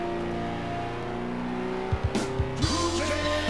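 Engines roar and rev from the arcade racing game Cruis'n USA, with a sustained car drone that breaks into several quick revving surges and tire squeals near the end.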